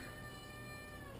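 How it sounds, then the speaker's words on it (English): A cat lets out a drawn-out, strained meow, faint and close, with a steady tonal whine throughout. "Whoa, crazy meow."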